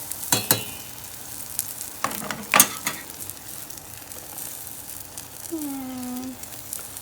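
Collard and radish greens frying in a pan, with a low continuous sizzle broken by a few sharp clatters of stirring and a brief high whine near the end; no talking.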